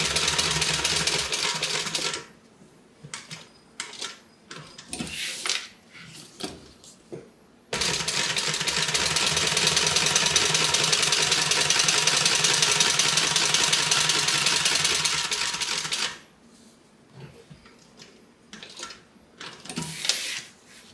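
A sewing machine stitches a bag in short start-stop bursts, then runs steadily for about eight seconds before more brief bursts. The whirring is close and loud, with no talking.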